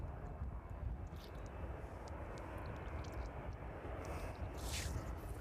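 Steady broadband jet engine roar of an aircraft pushing back on an airport apron at East Midlands Airport, a Jet2 service bound for Lanzarote, continuous and moderately distant with no talking.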